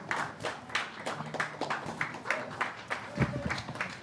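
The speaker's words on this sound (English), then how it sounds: "Please, a round of applause for them as they join me on the sofa" Student union election audience clapping as VP Education candidates take their seats, a fairly quiet, loose patter of individual claps from a modest crowd, with a few sharper hand strikes standing out.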